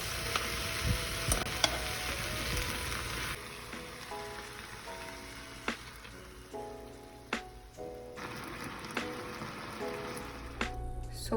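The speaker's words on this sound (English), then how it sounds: "So now I'm going to cook the mushroom." Mushrooms frying in a pan, a steady close sizzle with scattered pops and a few scrapes of stirring, no talking.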